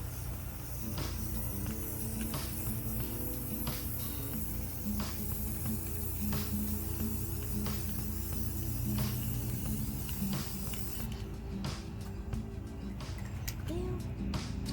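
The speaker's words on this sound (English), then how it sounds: "I had to spray paint them." A steady, close hiss of aerosol spray paint coating large planters runs almost continuously, with faint clicks and rattles mixed in and no talking.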